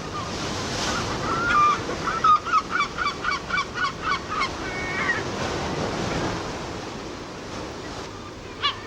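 Herring gulls call over breaking surf on the coast, a rapid run of about ten honking cries in a row with one or two more before and after, set against a constant wash of waves and wind.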